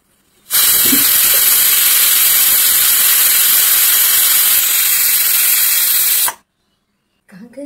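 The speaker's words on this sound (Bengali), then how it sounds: "ঢাকনাটা লাগিয়ে দিলাম প্রেসার কুকারে, 3টা সিটি দেবো" A pressure cooker on the stove lets out a loud, steady jet of steam for several seconds. The hiss cuts off abruptly and is followed by near silence.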